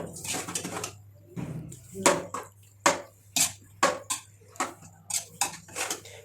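A spoon stirring washed chicken pieces in a metal cooking pot for biryani gives sharp clanks and scrapes against the pot, about a dozen strikes in a fairly steady rhythm over a low background hum.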